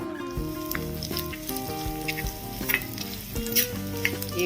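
Mustard seeds, a chopped green chilli, two dried red chillies, curry leaves and chilli powder sizzle and crackle in hot oil for a tempering, a steady frying hiss with small pops running throughout under background music.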